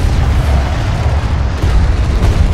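Deep rumbling booms and explosions crowd together as a bomber takes fire in the video game Homeworld: Deserts of Kharak, loud and continuous with no talk.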